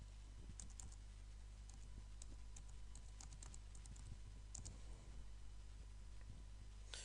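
Quiet keyboard typing at a computer, short clusters of light clicking keystrokes over a steady low electrical hum, close but faint.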